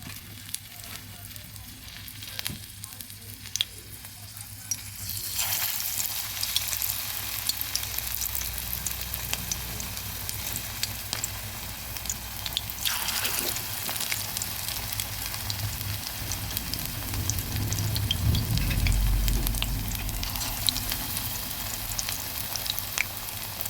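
Capsicum pakoras in batter fry in hot oil in a wok, a steady close sizzle that swells louder once more pieces go in, continuing without pause and with no talk.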